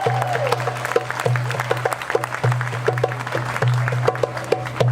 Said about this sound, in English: Give it a round of applause for our catfish.